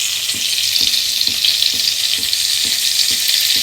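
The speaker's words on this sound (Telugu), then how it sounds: "ఇప్పుడు స్టవ్ ఆన్ చేసి బటర్ వేసిన కదా, అది కరిగేదాకా చూడాలి మనం" Butter melts in a pan on a lit stove for paneer curry, crackling with a bright, close sizzle while a spoon scrapes the pan in a steady beat about twice a second, no speech.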